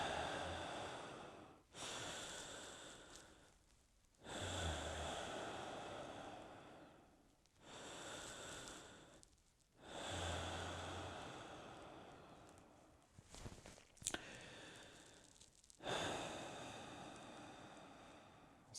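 A person demonstrating shallow chest breathing, with loud close breaths of about four seconds each, whooshing in and out through the nose and mouth in a slow repeating rhythm with short pauses between.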